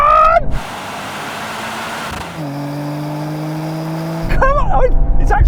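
Mercedes-AMG C63, BMW M3 Touring and Audi RS4 Competition drag racing, a loud sustained engine drone heard from inside one car, with a gear change partway, as excited voices shout at start and end.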